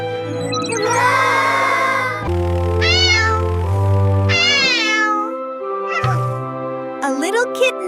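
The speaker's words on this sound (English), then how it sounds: "A little kitten needs help." A little kitten meows repeatedly in a cartoon scene, with several drawn-out, rising and falling cries in close succession, loud and near, over a low sustained background tone.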